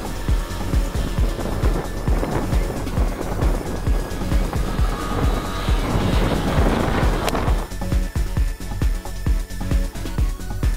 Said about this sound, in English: I got to fly my PT-19 again with a 4-stroke.